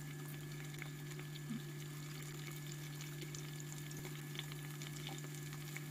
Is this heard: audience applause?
no